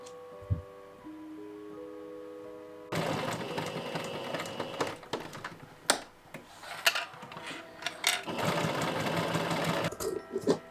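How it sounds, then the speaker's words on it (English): After a few quiet seconds, a sewing machine starts stitching fabric close by in uneven bursts, its needle clattering rapidly, with no talking. "Right sides together, I sew the edges of my collar, leaving the bottom open."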